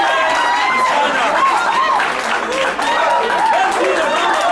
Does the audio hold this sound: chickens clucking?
no